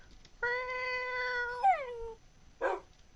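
A Minecraft cat gives one long, clear meow that holds steady and then slides down in pitch, followed by a brief second mew a moment later, up close and alone.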